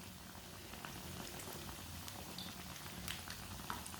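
A sandwich frying in oil in a pan on medium heat gives a quiet, steady bubbling sizzle with small crackles, continuous and fairly faint throughout.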